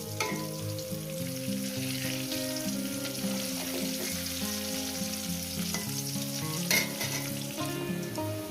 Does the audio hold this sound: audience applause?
no